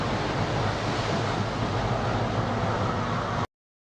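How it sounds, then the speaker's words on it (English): Heavy ocean surf roars and crashes in a dense, continuous wash as waves slam into a coastal train, with wind buffeting the microphone, then cuts off abruptly. "Massive waves slam into a train running along the coast,"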